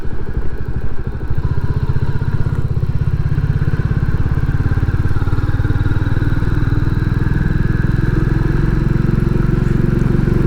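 A Royal Enfield Classic 350 motorcycle is ridden on an outing to Newquay. Its engine throbs steadily and loudly up close, mixed with rushing wind noise.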